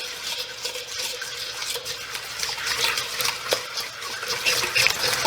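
A whisk beats a wet crab cake base in a bowl with fast, close, scratchy swishing that runs continuously and never pauses.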